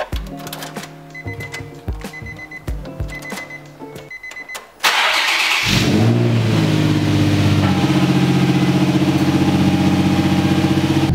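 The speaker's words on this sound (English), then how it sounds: "gonna start the car and see if the airbag light will come on." A Nissan 350Z engine cranks and starts after a few seconds of clicking and chiming, then settles into a loud, steady idle close by.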